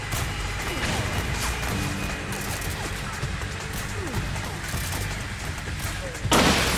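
Rapid bursts of gunfire against turret soldiers in Metal Gear Solid 4, a dense continuous barrage of shots and impacts with a louder crash near the end; a voice speaks over it.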